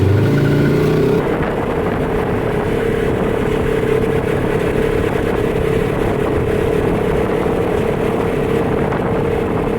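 During a winter snow emergency, cars stuck in snow spin their tires, giving a loud, continuous engine roar with a steady high whine. It runs unbroken for about ten seconds, heavy with wind and road noise.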